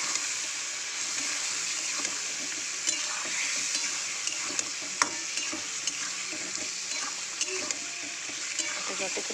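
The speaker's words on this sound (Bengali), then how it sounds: "ভালো করে কাঁচা মশলাটা কিন্তু কষিয়ে নেব।" Ginger, garlic and onion paste with turmeric and chili powder, loosened with a splash of water, frying and being stirred for soybean curry: continuous close sizzling with a scraping spoon and small clinks throughout.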